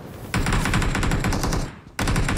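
Rapid automatic gunfire in PUBG Mobile on an event arena map, a dense burst of rattling shots that breaks off briefly and then resumes, loud and close with no speech.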